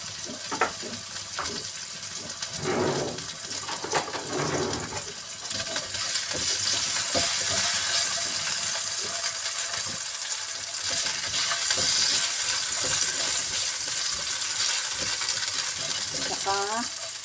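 Ginger sizzling in about four tablespoons of hot cooking oil for a beef muscle stew, a steady broad frying hiss with occasional stirring clatter and faint scrapes, fairly close and continuous throughout.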